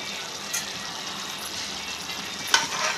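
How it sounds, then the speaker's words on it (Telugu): A spoon stirring chicken coated with garam masala and chicken masala in a sizzling pan, a steady close frying hiss broken by a few louder scrapes and clinks, with no voices. "ఒక స్పూన్ గరం మసాలా కొంచెం చికెన్ మసాలా వేసుకొని బాగా కలుపుకోవాలండి"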